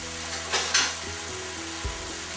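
Chicken stir fry in sauce sizzles loudly in a pan as it is stirred around, a dense hiss with a couple of utensil scrapes and a soft knock partway through.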